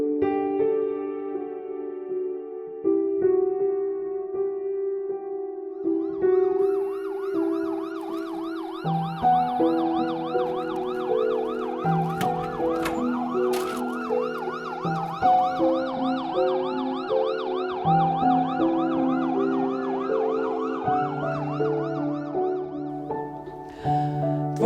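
Ambulance siren wailing continuously in rising and falling sweeps, loud and close, with several overlapping siren tones layering together as it goes on.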